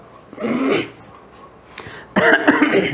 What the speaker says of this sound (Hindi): थोड़ा खांसी आ गई